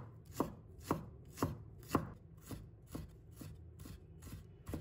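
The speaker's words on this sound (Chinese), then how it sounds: "把它切成薄片，再改刀切成姜丝，然后再切成姜末" A knife chops peeled fresh ginger on a board, mincing it after slicing and shredding, in a steady series of about ten close, crisp knocks roughly half a second apart, with no talking.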